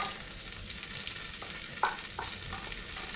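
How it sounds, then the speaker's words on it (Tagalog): Garlic sautéing in a pan, a soft, steady sizzle with a few light scrapes of a spatula as it is stirred, faint and close with no talking. "Tayo mag-gisa, guys. So, unahin po natin ang bawang."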